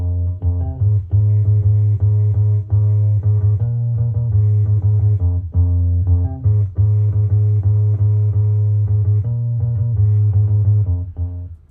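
Electric guitar bass line shifted down a full octave by a pitch effect, a deep sustained riff of steady repeated notes in an indie rock song, loud and continuous with no talking.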